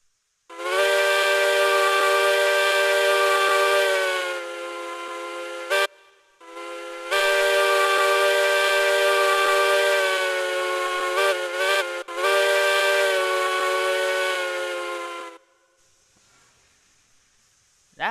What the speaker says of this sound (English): if you're wondering what the whistle sounds like, it's kind of loud